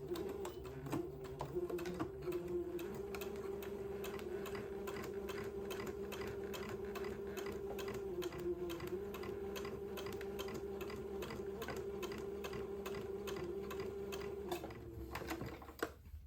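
A sewing machine runs steadily while stitching a tiny French seam of 3/16 inch or less on a baby's diaper shirt, a continuous close mechanical whir with rapid ticking that slows and stops near the end.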